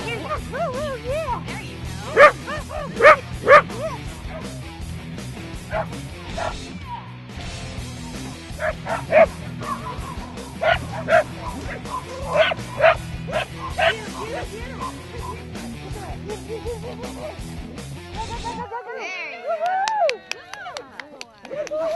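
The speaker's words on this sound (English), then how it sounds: "He barked more than anybody, and you can see how excited he is." A dog barks repeatedly in excited bursts, mixed with yips and whimpers, while people talk and react in the background; a brief gap partway through.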